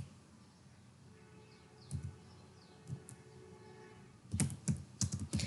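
Keys tap on a computer keyboard while an online form is filled in, with a few sparse presses early on and then a quicker, louder burst of typing near the end.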